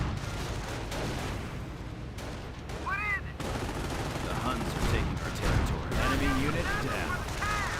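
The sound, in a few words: Hellcat tank gun and gunfire in Company of Heroes video game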